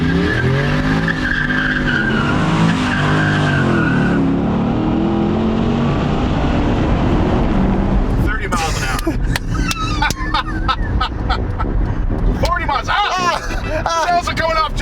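A PT Cruiser racing a 500 horsepower LS3-powered 1967 Chevelle, loud engines droning and revving, then sharp tire squeals and skidding chirps as they launch, with people talking over the noise.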